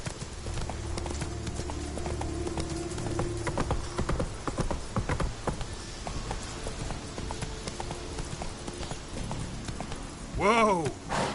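Hooves of Roach, a horse in The Witcher 3: Wild Hunt, clip-clop in a steady rhythm of close, distinct strikes, with a brief whinny near the end and a voice talking over part of it.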